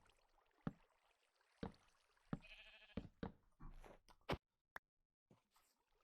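Several short sheep bleats from the Minecraft video game, spaced out and separated by brief clicks and boat-like splashes, fairly quiet overall.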